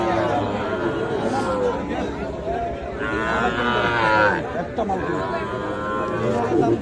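A Sahiwal bull calf moos several times at a busy cattle market, its drawn-out calls standing out over steady crowd chatter and other livestock nearby.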